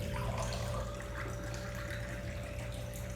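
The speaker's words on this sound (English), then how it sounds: "I'm going to fill it up with fresh water real quick." Fresh water pours from a dispenser into a cup in a kitchen, a steady continuous running and filling sound throughout, fairly close, with a faint steady hum underneath and no talking.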